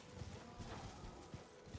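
Horse hooves galloping in Elden Ring, a quick run of soft, rhythmic thumping beats at moderate distance over a steady low game ambience, with no talk.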